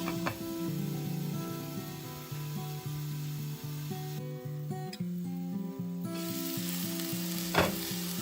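Jackfruit with salt and turmeric cooking in a covered pan, giving a continuous sizzle and light scraping under a steady musical background, with one sharp knock near the end.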